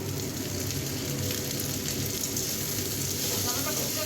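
Chopped tomato dropped into a hot pan with crunchy fried raisins, giving a steady, dense sizzle and crackle, close and constant, with no voices.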